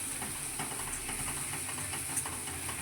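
Chicken masala sautéing in an iron pan, with a steady, quiet hiss and soft sizzle running throughout, broken only by faint stirring scrapes.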